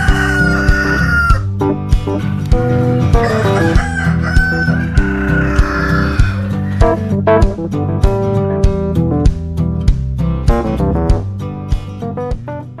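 A backyard rooster crows loudly while chickens cluck, all set against a steady, rhythmic musical backing that runs throughout.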